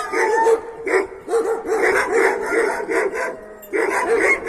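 Several dogs bark and yip repeatedly at close range, a busy overlapping chorus with brief pauses, and a voice faintly underneath.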